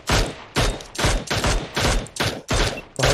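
Rapid bursts of video game gunfire, about seven sharp loud shots in a fast, slightly uneven rhythm, close and punchy.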